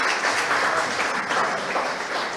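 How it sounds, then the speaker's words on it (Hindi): Applause at a police and community leaders' excellence awards ceremony as a police station chief is welcomed, a full crowd clapping steadily and loudly throughout, easing slightly toward the end. "जोरदार तालियों से स्वागत मिसरोड थाना प्रभारी श्री रतन सिंह परिहार जी का।"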